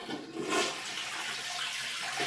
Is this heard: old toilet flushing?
yes